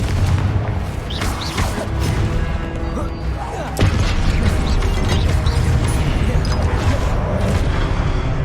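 Confringo fire spell blasts in the video game Hogwarts Legacy: booming impacts and crashing debris over a dense, loud battle and music bed, with shouted spell voices.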